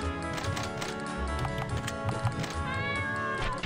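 A cat meows in the video game Mimicry Man, heard in several short tonal calls over a busy bed of game music and effects.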